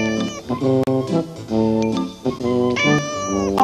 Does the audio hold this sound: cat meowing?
yes